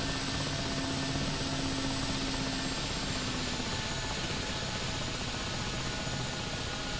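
Mi-8MTV2 helicopter engine in the flight simulator DCS, throttled back toward idle: a steady broadband turbine whine and rotor hum, loud and constant, with a faint low tone fading out partway through.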